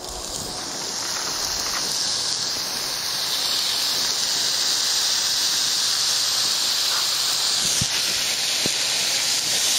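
Hamburger patties sizzle on a hot oiled griddle, a loud, steady, bright hiss that holds through the whole stretch with only a few faint clicks and no talk.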